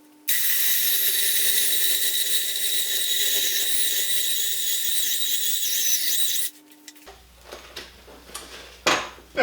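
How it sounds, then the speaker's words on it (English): A power drill boring a hole into a workpiece for a hip-powered pile driver, a loud, steady high whine for about six seconds that cuts off abruptly, followed by quieter clunks and handling noises. "The drill is kind of stalling out at a certain depth"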